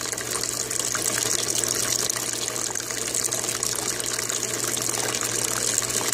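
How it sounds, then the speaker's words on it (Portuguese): Aquaponic bell siphon flushing, with water gushing and bubbling steadily through a venturi beneath it, a loud, close, continuous hissing rush with no voices. "E esse barulhinho que vocês estão ouvindo é o Venturi que está funcionando logo aqui embaixo."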